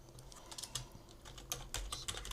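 Quick, light keystrokes on a computer keyboard come in an irregular burst of close, crisp clicks, with no voice.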